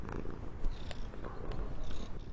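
A cat purring close to a microphone, a steady low rumbling purr with soft rhythmic pulses and faint clicks, no voices over it.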